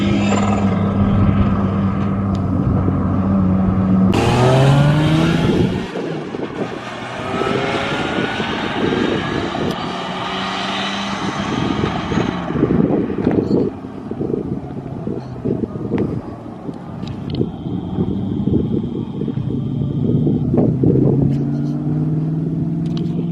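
A freshly tuned BMW E46 drift car with a swapped-in Toyota 2JZ engine roars loudly as it drives and shifts through gears, with heavy wind buffeting the microphone throughout.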